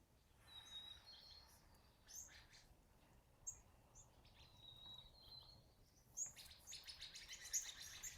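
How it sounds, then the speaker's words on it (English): Sparrows chirp outdoors, quiet and a little distant, with scattered short tweets through a hushed background and a livelier burst of calls near the end. "I had the birds chirping, so that's why I unmuted"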